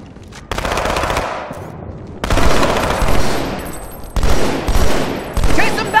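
Rapid automatic gunfire from the Halo 2 video game, loud bursts of sustained machine-gun fire broken by brief pauses, with three or four separate volleys.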